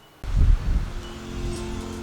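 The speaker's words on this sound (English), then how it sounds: "still very windy" Strong wind gusts buffet the microphone outdoors in a garden during a dust storm, a sudden rumbling roar that starts abruptly and carries on as a steady blustery noise.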